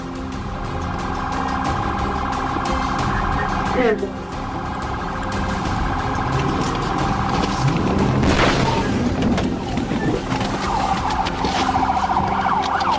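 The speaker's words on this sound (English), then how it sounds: "placed his vehicle directly in front of the fleeing car, resulting in a head-on collision that brought the pursuit to a halt" A police car rams head-on into a fleeing car to end a high-speed chase, caught on dashcam: a loud impact bang and scraping crunch amid a steady car alarm-like siren wail and road noise, with later skidding and clatter.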